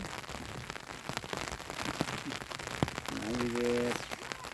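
Light rain patters steadily on a hillside with scattered drop clicks, fairly faint, while a short tonal sound rises briefly near the end.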